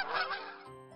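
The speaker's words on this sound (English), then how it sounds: "Goose." A goose honks in a short, loud, nasal call that starts at once and then trails into a lower, fading honk.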